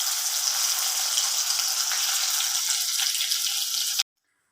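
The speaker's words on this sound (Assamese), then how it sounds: "এতিয়া আলুখিনি ফ্ৰাই কৰি লওঁ।" Potatoes frying in a karahi in a home kitchen, a steady loud hiss of sizzling oil held evenly for about four seconds before cutting off abruptly.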